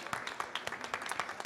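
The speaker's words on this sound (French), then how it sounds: "Donc je vous demande d'applaudir bien fort les intervenants." A conference audience at an occupational e-medicine event applauds the speakers, individual hand claps audible as sharp irregular bursts in a fairly sparse, close round of clapping.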